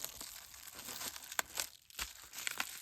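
Cardboard card mailer for a trading card eBay sale, folded over by hand with crinkling, crunching and tearing-like rustles, several sharp crisp bursts spread over a few seconds, close and fairly quiet.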